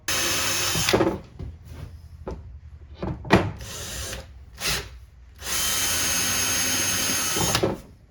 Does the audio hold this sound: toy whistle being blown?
no